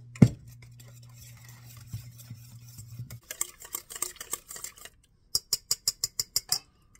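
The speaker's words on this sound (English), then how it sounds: "now we're going to whisk this until it's smooth" Whisking wet ingredients for eggnog bread batter, vanilla included, in a bowl. The wire whisk clicks rapidly against the sides, up close, first in an irregular patter and then in a quick, even burst of sharp taps.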